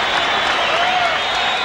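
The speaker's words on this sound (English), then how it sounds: "Oh, what an ovation." A boxing arena crowd, at a world title fight featuring WBC champion Daniel Zaragoza and Paul Banke, breaks into dense, sustained applause and cheering between rounds, loud and continuous.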